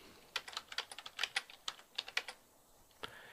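Quick bursts of clicking keystrokes tap on a computer keyboard as values are typed in, a brief cluster of close, crisp key presses in a quiet room, ending with one final tap.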